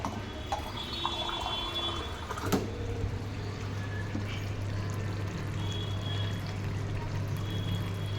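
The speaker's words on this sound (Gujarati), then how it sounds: "ચાલો પાણી નાખી દીધું છે" Water is poured into a pot of potato curry gravy on the stove, a faint, steady pouring and sizzling wash with a small clink near the start.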